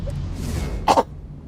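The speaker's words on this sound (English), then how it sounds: "I can't get rid of this cough" A single short cough bursts out close to the microphone, briefly and fairly loud, after a moment of quiet room noise.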